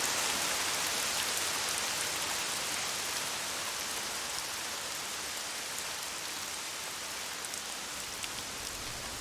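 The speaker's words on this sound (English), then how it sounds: "That rain sounds really good in my headphones." Steady rain falls in the video game Lost Odyssey, a dense, even hiss of drops on surfaces that continues without a break from start to finish.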